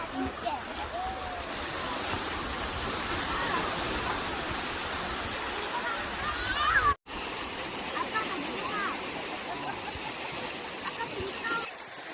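Continuous rushing roar of sea waves breaking on a beach at Batgae, Taean, steady and full, with a brief cut partway through and faint voices underneath.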